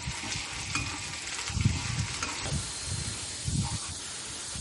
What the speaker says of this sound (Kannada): ಫಸ್ಟು ಆಲೂಗಡ್ಡೆ ಹಾಕ್ತಾಯಿದ್ದೀನಿ. ಅದನ್ನು ಚೆನ್ನಾಗಿ ಫ್ರೈ ಮಾಡ್ಕೋಬೇಕು.